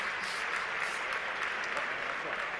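Audience applause at a Partido Popular political convention, a steady dense wash of clapping that fills the whole stretch without pause, with possible crowd voices mixed in.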